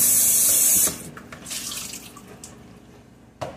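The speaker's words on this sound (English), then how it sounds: "Rinse it out one more time with some cold water." Cold tap water runs loudly into a bowl for about a second, then stops, leaving soft clinks and drips of rinsing in a kitchen sink.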